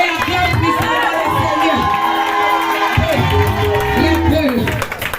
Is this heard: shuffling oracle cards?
no